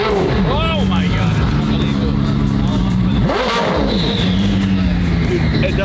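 A red Koenigsegg Jesko's engine roars close by, rising and falling in pitch as it revs and sweeps past. Excited voices are heard over the loud, continuous mechanical drone.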